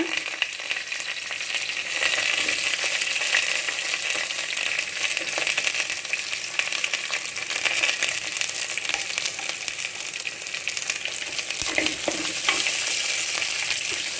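Brinjal and onions sauté steadily in a pan for a curry-leaf brinjal egg scramble, a constant, fairly loud frying sizzle with occasional stirring scrapes and no pauses.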